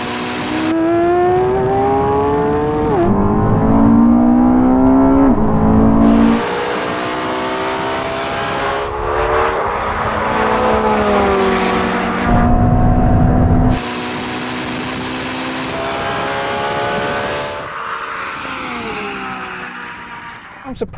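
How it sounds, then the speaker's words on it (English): A Ferrari SF90 and a Porsche accelerate hard in third gear from 50 mph over a half-mile race, with loud, close engine roar rising through repeated pitch sweeps and gear changes, under some talk. "race over the half mile, but this time we're going to be pulling from third gear from 50 miles an hour"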